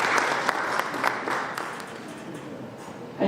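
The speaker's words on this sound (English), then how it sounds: "Please let's clap for him as he comes." An audience at an Eastern Africa agroecology conference claps to welcome a presenter. The applause is moderately loud at first, then thins and fades toward the end.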